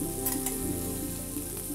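Wild mushrooms fry in a little clarified butter in a hot pan, giving a continuous crackling sizzle with small pops throughout, close and steady, with no speech.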